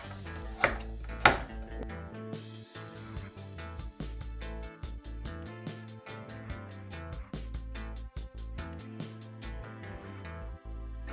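A knife chops carrots and pumpkin finely on a board for a Jamaican-style punch, a fast steady run of sharp close taps after two louder opening strikes, with no talk.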